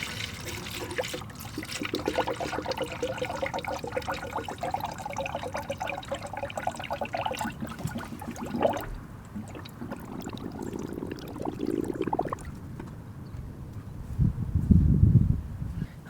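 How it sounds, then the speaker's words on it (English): Coolant pours and gurgles steadily into the cooling system of a 1991–2005 Acura NSX, trickling and bubbling close by for a long stretch, then tapering to intermittent glugs and a final rush of fluid. "So I'm going to pour more coolant in."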